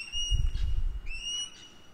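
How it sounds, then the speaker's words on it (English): A loud bird outside a parked van gives two clear whistled calls, each a bright high tone about a second apart, over faint low background rumble. "a very loud bird"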